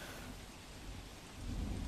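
Heavy rain pours over Palanpur in Banaskantha, a dense steady roar of drops on surfaces that grows slightly stronger toward the end, with no voices.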